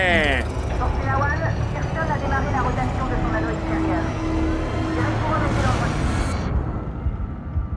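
Rotation engine starting up in the space game Deliver Us the Moon, a loud rising mechanical roar with whirring harmonic tones that builds and sustains, then cuts off near the end, while a voice talks over it.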